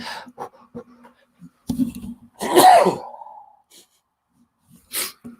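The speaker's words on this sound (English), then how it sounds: "Hold on, here comes another sneeze." A single loud sneeze bursts out, preceded by a few quick breaths and a faint catch of air, then quiet with a small sniff after.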